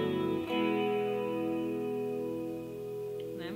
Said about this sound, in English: Strumming the top 4 strings or so to open.